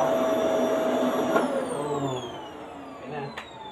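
A vacuum cleaner runs steadily nearby with a loud whining hum whose pitch slowly drifts downward, with a couple of brief clicks and bumps as it works.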